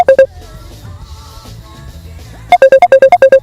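A telephone ringtone for an incoming call sounds in two bursts of rapid electronic beeps. It is loud and close, with a short quieter gap of faint background murmur between the bursts.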